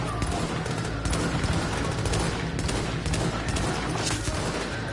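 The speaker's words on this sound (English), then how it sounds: "This M1A is more stable than it used to be." M1A rifle fire in The Division video game comes as a dense, loud volley of rapid shots and bursts, sounding close and continuous throughout.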